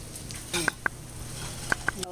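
A chicken and cheese omelet sizzles steadily in a frying pan, with a few sharp metallic clicks and taps of a utensil against the pan over the frying.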